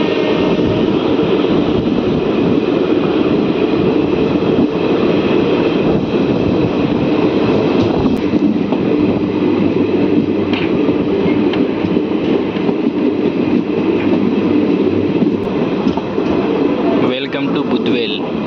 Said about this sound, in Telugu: ఉందానగర్ నుంచి మన ట్రైన్ బయలుదేరింది.